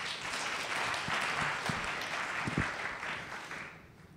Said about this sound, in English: If you are a fan of Star Wars, clap your hands.